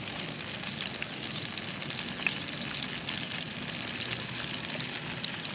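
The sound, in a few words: stirring ginger frying in a pan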